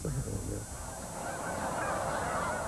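A dense flock of snow geese honking continuously, many overlapping calls forming a loud, steady chorus with no talking.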